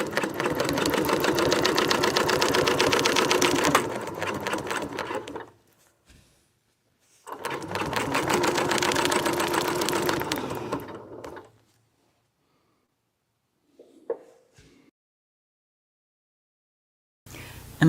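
A sewing machine stitching through a quilt runs in two steady, loud bursts of rapid mechanical whirring, about five and four seconds long, separated by silence, followed by a few faint handling clicks.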